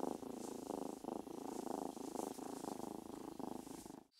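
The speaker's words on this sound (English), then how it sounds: "A mother cat and four kittens." A mother cat lying with her four kittens gives a steady, close rumbling purr that runs continuously for about four seconds in rhythmic pulses before stopping abruptly.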